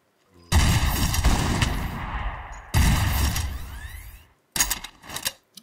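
Weapon fire in the ATC modpack game: loud, sustained bursts of rapid shots, close up, broken by a pause and ending in a few shorter clipped volleys.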